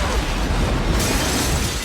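A huge film explosion destroys the White House, a dense, roaring blast that fills the moment with sustained rumbling noise and debris, loud and unbroken.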